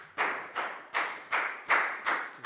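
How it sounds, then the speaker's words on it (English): A class of students claps in unison during a Year 4 math lesson, giving seven evenly spaced, sharp claps close by, each decaying briefly before the next. "Big round of applause for Nadia, please, guys."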